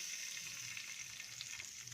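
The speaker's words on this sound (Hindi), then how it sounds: "देखिए इस तरीके से हमने तड़का लगा दिया।" Tempering for a mixed masoor and chana lentil dal sizzles hard in hot oil, a dense continuous crackle and hiss with faint stirring, close and steady with no talk.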